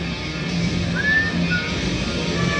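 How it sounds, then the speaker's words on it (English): A person whistles a short, clear rising note, followed by a brief second tone, inside a dark haunted house attraction, with a steady background hum underneath. "I heard a whistle."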